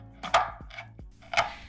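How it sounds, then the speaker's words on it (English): A knife chops chocolate chips on a cutting board in three quick, close, crisp strikes with brief pauses between, alone without talk. "make your filling by chopping up some chocolate chips"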